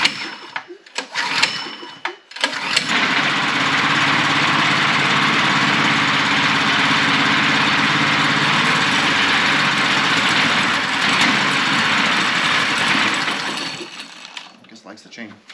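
A mini chopper motorcycle engine sitting on a table fires up after a week unused, then settles into a loud, steady, buzzing idle that runs unbroken for about ten seconds before cutting off, with brief talk near the start.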